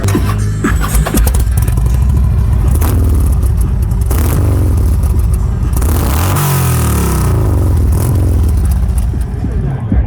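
A custom 2009 Harley-Davidson Street Glide with aftermarket dual exhaust pipes revs loudly up close, a deep throbbing idle rising and falling through several throttle blips.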